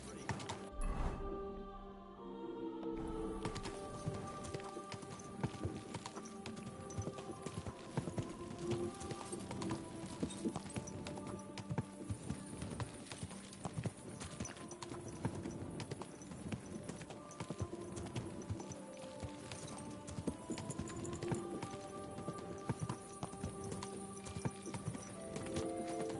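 Horse hooves clip-clop at a steady trotting rhythm in the video game Kingdom Come: Deliverance II, close and continuous throughout, over ambient game music and tack sounds.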